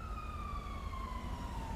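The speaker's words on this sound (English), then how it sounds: "I hear sirens" A police siren in a video game wails in a steady, slowly falling tone over a low engine rumble, moderately loud and continuous, no voices.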